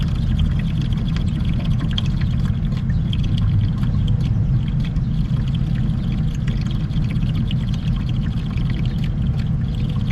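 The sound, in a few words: pouring diesel exhaust fluid (DEF) from a jug into a truck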